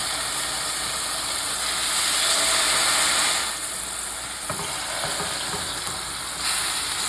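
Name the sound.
lamb loin chops sizzling in a frying pan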